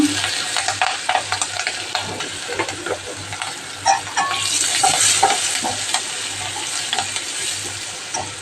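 Onion frying in a pan with turmeric, green chillies and ginger paste for onion paratha, giving a steady close sizzle broken by frequent clattering stirs, with no talking.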